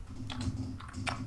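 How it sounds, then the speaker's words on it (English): Quick, uneven keystrokes on a computer keyboard, close and fairly quiet, with a few sharper clacks standing out from the steady patter. "Because I look at the keyboard when I type."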